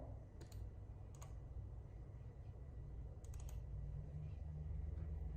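A handful of sharp, isolated computer mouse clicks land in small clusters over a steady low hum, faint and close, with long pauses between them.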